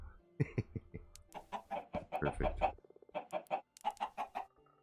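Chickens clucking in Minecraft, with quick, repeated bird calls running through most of the stretch, mixed in with a person talking nearby.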